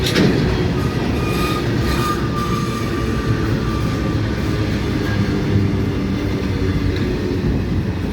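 An up freight train runs through dense fog toward Bandel railway junction, a loud, steady, close rumble of wheels and wagons with faint squeals, and no voices.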